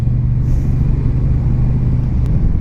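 A 2022 Honda Rebel 1100 DCT motorcycle engine pulling in third gear after an automatic shift, a loud steady low rumble close by with wind noise and no talk.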